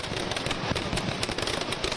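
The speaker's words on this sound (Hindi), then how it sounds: "जबरदस्त आतिशबाजी" Fireworks burst over an evening Ravana Dahan effigy burning in Srinagar, a dense crackling barrage of pops and bangs packed tightly together, loud and continuous with no voices.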